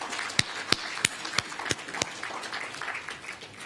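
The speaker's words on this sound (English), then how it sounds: "Welcome with me, ladies and gentlemen, with a round of applause" Audience applause at a live panel dialogue event, a steady wash of clapping from a crowd with several sharper claps standing out near the start, moderately distant and continuing evenly throughout.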